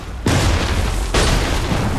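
Gunfire in the video game Assassin's Creed 3: two loud, booming shots about a second apart, each a sharp blast with a rumbling tail that hangs over the next.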